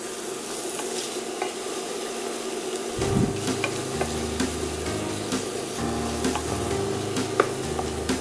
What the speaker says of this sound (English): Mix it so the spices stick onto the potatoes.